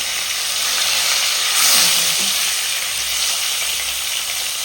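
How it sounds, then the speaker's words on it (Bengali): Pieces of Bhola fish fry in hot oil in a pan, giving a steady, close hiss of sizzling with a slight swell midway and no voices. "মাছ ভাজাটা একবার দেখে নিই বন্ধুরা, উল্টাই দেবো।"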